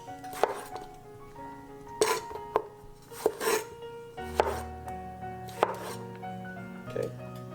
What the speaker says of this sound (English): 10 romaine tomatoes. We're gonna just kind of quarter them.